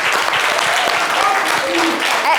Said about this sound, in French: va l'applaudir bien fort, s'il vous plaît